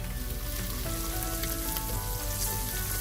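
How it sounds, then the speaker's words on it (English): Onions browning in a pan for a beef shank korma, giving a steady, even frying sizzle that holds close and fairly quiet throughout with no voices. "As our onions brown"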